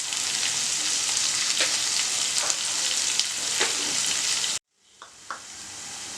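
Chopped onion, salt, a piece of coconut and two large tomatoes sautéing in a pan of oil for chicken salna, a steady close hiss with occasional soft stirring taps, which cuts off abruptly near the end before a few faint clinks.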